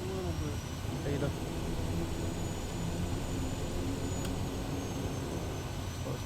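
The Kodiak 100 turboprop engine in Microsoft Flight Simulator gives a steady, even drone as it throttles back into beta after landing, and a faint voice is briefly heard near the start.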